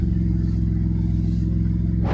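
Maserati MC20 supercar engine and exhaust idling or cruising with a steady, subdued low rumble, close and continuous without talk, swelling briefly at the end.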